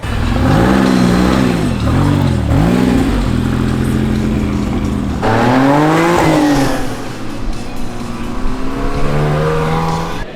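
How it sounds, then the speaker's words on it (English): A sports car at a cars and coffee meet revs hard and loud, the exhaust note rising and falling in repeated sweeps before settling into a steady throaty idle. "The exhaust is absolutely lovely on it."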